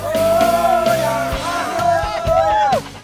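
A group of people shout and chant in rhythm while hauling a heavy sago palm trunk along a river, loud overlapping voices rising and falling in repeated calls close by.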